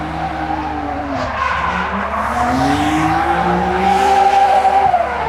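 A stock BMW 125i's engine roars steadily while new tires squeal in long sliding screeches, rising and falling as the car drifts, loud and continuous throughout.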